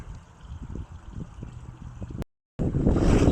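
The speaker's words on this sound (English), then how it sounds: "So here we are sailing back on the Nordica 16 on the Mississippi again." Wind and water rush around a Nordica 16 sailboat under way on the Mississippi River, a steady low wash broken by a brief gap before louder gusting wind noise returns.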